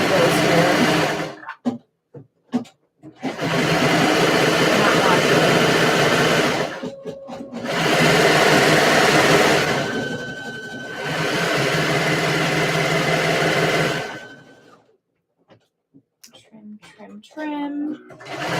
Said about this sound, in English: then we have to serge the bottom edges